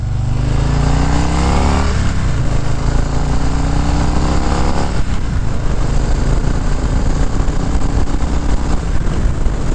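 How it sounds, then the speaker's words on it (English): A motorcycle engine revs hard while shifting up into third gear, its pitch climbing, dropping at each clutch pull and climbing again; loud and close throughout, with no talking. "let off the throttle, pull in the clutch, kick up on the lever, slowly let the clutch out, and give it some throttle"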